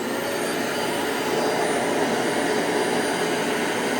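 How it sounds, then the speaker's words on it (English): Clean Obsessed dual-motor commercial upright vacuum runs on suction only, a loud, steady, even roar of motors with no brush roll, holding constant for several seconds without any talk. "first I'm going to show you what it sounds like just with the suction alone"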